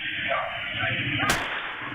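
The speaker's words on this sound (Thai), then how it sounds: "สักพักเป็นงเสียงปืนได้ยินนะฮะ" A single sharp gunshot cracks out amid steady background noise and murmuring, standing out as one brief, loud report.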